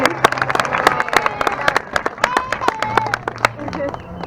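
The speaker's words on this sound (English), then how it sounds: "Let's give him a real round of applause" A small audience claps for a young presenter named Julian, with sharp, irregular claps from a few hands scattered across the moment while voices chatter and talk over them throughout.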